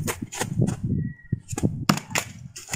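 A thrown axe strikes a wooden target and bounces off without sticking, a few sharp knocks and thuds nearby, with outdoor handling noise.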